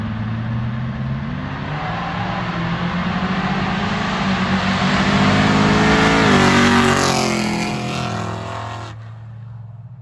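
A Chevrolet Nova street racing car revs up loudly as its turbo spools, the engine note climbing to a peak and then cutting off abruptly, close and alone without talk.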